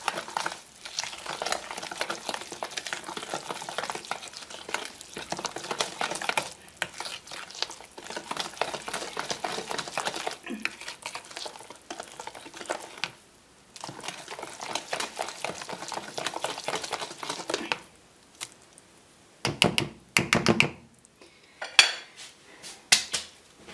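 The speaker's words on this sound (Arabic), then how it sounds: "نخلطها مزيان حتى يتجانس ليا الخليط." Batter for Moroccan semolina harsha with milk and yeast being mixed in a bowl, a steady run of wet scraping and clinking utensil strokes that goes on at length, then breaks into a few sharper, louder knocks near the end, with no talk.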